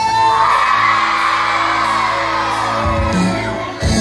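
Crowd of young people yelling and whooping loudly together at an outdoor casual walking event in Wajo, a sustained massed shout that holds for several seconds before tapering off.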